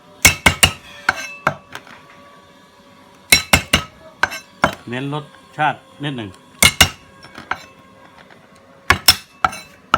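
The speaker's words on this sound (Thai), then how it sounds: "หั่นให้เข้ากันกระเทียมกับพริกนะครับ" Sharp knife strikes on a cutting board chopping chili and garlic together come in quick bursts and pauses, with someone talking briefly between the chops.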